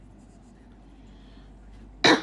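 A single sharp cough bursts out near the end after a stretch of quiet room tone.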